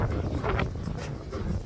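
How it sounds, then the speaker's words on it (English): A big gust of wind blasts across the microphone, a loud, broadband rushing buffet that swells and fades over a couple of seconds. "we just got a big gust of wind for some reason"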